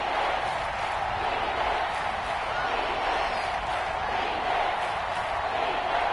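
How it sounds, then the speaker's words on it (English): Stadium crowd in a football video game cheering in a steady, dense roar that holds at an even level without clear peaks or breaks. "This crowd doing all they can."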